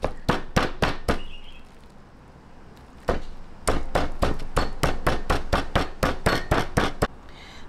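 Chicken meat being pounded flat for katsu, a run of loud, sharp, close thuds in quick rhythm, then a brief pause before the steady blows resume, with no talking.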